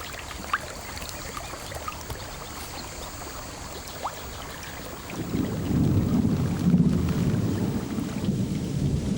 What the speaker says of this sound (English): the frequency and violence of storms, which hit mostly in the evening, increase